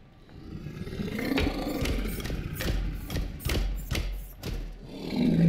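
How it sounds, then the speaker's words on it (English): A series of deep, growling robot gargoyle roars from the video game Observer, with heavy thuds between them, building in loudness with a metallic, synthetic edge; no talking. "That's the sound of robot gargoyles."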